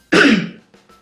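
A single loud, close throat-clearing cough from a person trying to lower their voice, followed by two faint short after-sounds.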